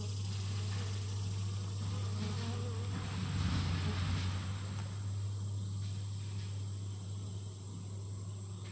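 Honey bees swarm densely over a brood frame lifted from a hive, a steady loud droning buzz with a strong low hum running throughout, close and continuous.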